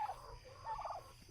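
Faint turkey gobbling, a couple of short warbling bursts heard from a distance in a quiet setting.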